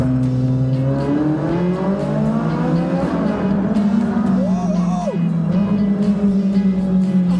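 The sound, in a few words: Ferrari sports car engine in tunnel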